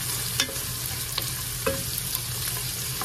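Onions sauté in a hot pan with a continuous close sizzle, punctuated by a few crisp clicks and scrapes from a stirring utensil, with no voices.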